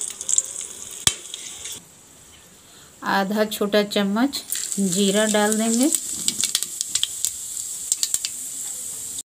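Crackling sizzle of whole spices, black cardamom, green cardamom, cloves and black peppercorns, frying in hot oil runs steadily throughout, with someone speaking briefly over it in the middle.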